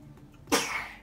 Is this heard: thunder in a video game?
no